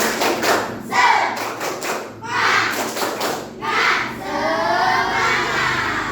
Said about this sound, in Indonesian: Kita sama-sama tepuk semangat ya, biar lebih semangat lagi belajarnya.